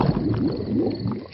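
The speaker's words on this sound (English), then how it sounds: "My tummy rumbling is one of the best sounds of nature." A cartoon stomach rumbles: a low, bubbly gurgling, continuous for a moment before trailing off into quiet.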